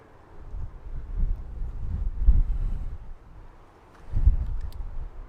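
Gusts of wind buffeting the microphone in low rumbling surges that rise and fall, with no voices.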